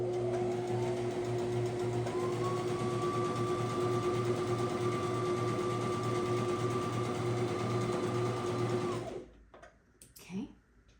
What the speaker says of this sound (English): I'm gonna sew it on the side here.